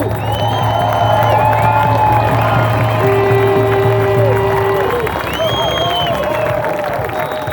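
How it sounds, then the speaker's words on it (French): A crowd at a nurses' speaking event in French cheers, whoops and applauds loudly and steadily after a host is introduced, with shouts and voices mixed into the dense noise throughout. "Applaudissez-le bien fort, Monsieur Pierre Brisson."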